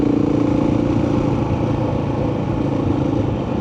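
A KTM 690 single-cylinder motorcycle engine holds a steady, loud drone as it gains speed on cruise control, heard close with wind noise and no talk.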